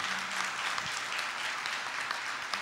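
An audience at a school event claps steadily throughout, a dense, even patter of applause with a few sharper claps standing out.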